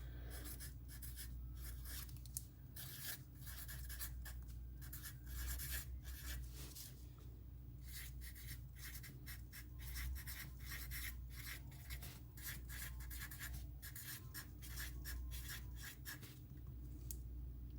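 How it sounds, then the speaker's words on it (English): Handwriting close up: a steady run of scratchy strokes and short rubbing scrapes against a low background hum, with no talking. "So I'm gonna write that down actually."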